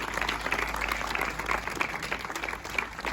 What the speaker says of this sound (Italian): un applauso al sindaco di Cordignano